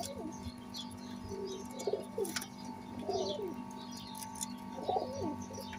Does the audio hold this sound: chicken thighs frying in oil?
no